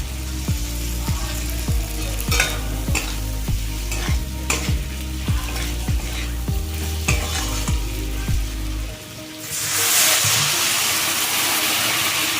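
Fried potatoes tossed into a spiced masala in a pan, stirred with quick regular spatula scrapes over a steady sizzle, then the stirring stops and a louder, hissing rush of frying takes over near the end.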